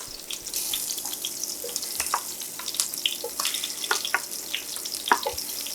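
A kitchen tap runs steadily at the sink as hands are washed, a close continuous rushing hiss broken by small splashes, with a hot pan heating nearby for Swedish meatballs.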